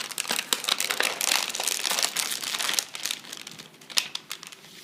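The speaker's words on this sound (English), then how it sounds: "Firstly, remove the device from its packaging." A PCA pump is pulled out of its sterile plastic packaging in a close, busy run of crinkling and crackling, with sharp rustles repeating irregularly over a few seconds.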